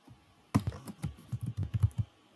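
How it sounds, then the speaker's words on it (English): Close keyboard typing: a brief pause, then a quick run of soft key clicks in an uneven rhythm. "So I'm going to go ahead and start out typing a name here."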